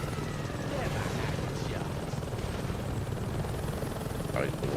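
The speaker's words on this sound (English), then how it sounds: "That helicopter's gonna show up any minute." A helicopter in the Saints Row 2 video game thrums as a steady broadband drone throughout, loud and continuous, with faint game effects layered over it.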